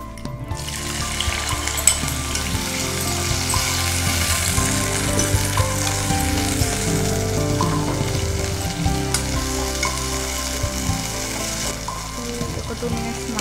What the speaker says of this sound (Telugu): ఆయిల్ వేడెక్కింది, టమాటాలు వేసుకుంటాం.